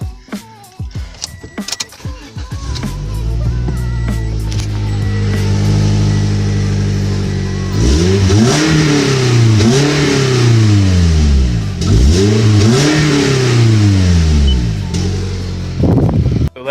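A Scion car engine with an open-cat downpipe and no exhaust fitted revs hard and close, rising and falling through several loud, raspy throttle blips over a steady idle.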